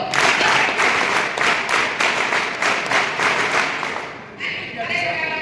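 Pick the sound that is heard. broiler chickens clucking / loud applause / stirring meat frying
loud applause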